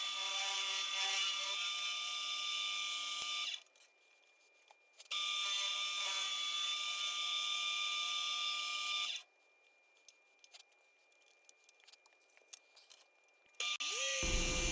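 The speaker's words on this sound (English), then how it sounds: "Then I'll take the easy way and hog it out with some Forstner bits." Forstner bits hogging out HDPE plastic on a lathe: two long, loud, steady drilling whines, each stopping abruptly, with quieter mechanical rattles in the pauses and a third burst starting at the end.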